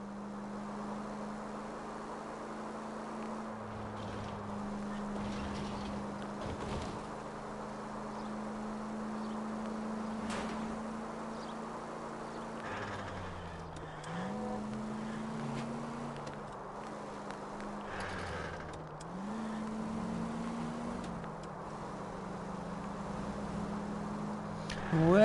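A car engine drones steadily in L.A. Noire, its pitch shifting up and down as the vehicle speeds and slows, heard moderately loud and continuous with no talk over it.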